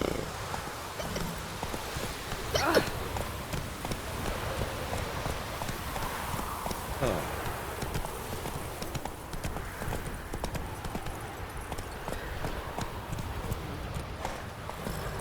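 Hoofbeats of a horse in The Witcher 3 game world, a steady clip-clop running through the whole stretch with a brief snort or whinny near the start, moderately close over a soft ambient bed.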